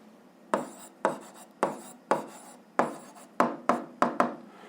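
Pen or chalk writing by hand during a physics lesson, a series of close, distinct scratchy strokes, each starting sharply and fading, quickening toward the end.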